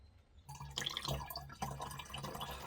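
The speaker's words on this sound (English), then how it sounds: "I'm just going to top up this header tank again and we'll go again." Water topping up a header tank on an off-grid narrowboat hot water system, close trickling and dripping that starts abruptly after a quiet moment, then continues in uneven splashy bursts.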